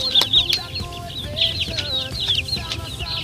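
Newly hatched chicks peep outdoors, high thin chirps repeating in quick bursts close by, with faint low clucking and soft background noise underneath.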